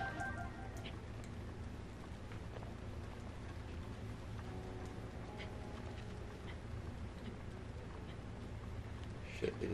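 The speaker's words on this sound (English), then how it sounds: "it is raining." Rain falls in the video game The Legend of Zelda: Breath of the Wild, a steady, soft patter of drops spread over a low game ambience, with a few louder taps scattered through.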